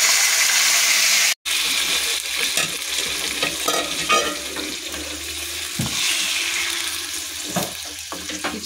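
Chicken frying in hot oil in a kadai for biryani, with bay leaf and cardamom, gives a steady sizzle while a spoon stirs and scrapes at intervals; one sharp clatter comes early.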